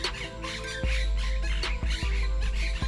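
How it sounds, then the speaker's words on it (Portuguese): Harsh, loud white-throated parakeet squawks repeat in quick bursts, several overlapping calls close by in the Pantanal, with no talking. "O periquito de papo branco se camufla entre as folhas, mas a gritaria não deixa dúvidas."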